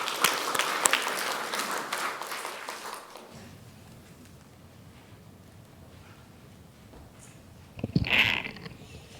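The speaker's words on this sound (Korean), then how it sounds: "박수 한번 하겠습니다" A church congregation applauds during a Sunday worship service. The clapping is moderately loud for about three seconds, then dies away into a quiet room, with a brief, faint burst of sound near the end.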